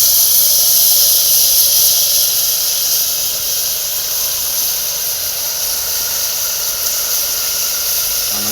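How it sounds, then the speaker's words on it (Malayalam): Water being poured into a hot pan while making a green chilli curry, a steady loud hiss that holds evenly throughout without letting up. "അപ്പോൾ ഗൈസ് നമുക്ക് അതിനകത്തേക്ക് പൊടിവെള്ളം ഒഴിക്കാം"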